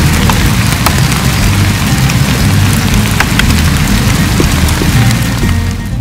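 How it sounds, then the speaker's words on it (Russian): Steady heavy rain pours down outdoors near a river in the upper Kuban on a barbel fishing trip, a loud continuous patter with scattered sharper drop hits and no voices. "Дождь не надолго, да? Только крупно."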